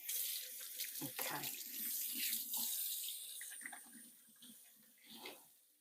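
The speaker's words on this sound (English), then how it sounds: "Got to wash my hands again." Tap water runs steadily into a kitchen sink as hands are washed while preparing traditional Abruzzo-style Italian meatballs, a continuous splashing hiss with a brief spoken word over it.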